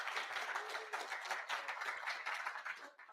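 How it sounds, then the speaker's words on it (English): A room of people at a general body meeting clap for a newly appointed vice president, a short burst of brisk, fairly quiet applause that fades out within a few seconds. "if you want to give it a round of applause for Emma Levinson"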